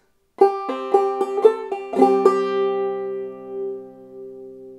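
A banjo is picked in a quick bouncy clawhammer pattern with drop thumb, bright plucked notes and brushed strums, ending on a ringing chord that fades out.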